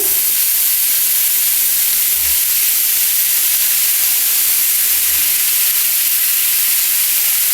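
Okra fries in a pan with spices, a loud, unbroken sizzle close to the pan that holds steady throughout, with a few faint low bumps from the pan underneath.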